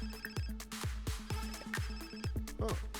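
A phone ringtone in The Sims video game: a bright, repeating electronic melody of short chiming notes that rings steadily and prominently for a few seconds.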